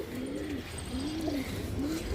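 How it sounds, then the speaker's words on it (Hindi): A pigeon coos in repeated soft, rolling phrases, three low warbling calls in steady rhythm, close by and alone over a faint background hiss. "और गाइस एक ये जो मोजड़ा कबूतर है"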